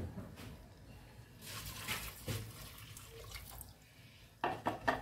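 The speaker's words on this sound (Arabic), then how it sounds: "نزيد شويه الماء" Water is poured into a cooking pot for rice, making a soft splashing pour that swells and fades, followed near the end by a brighter, louder burst of running water close by.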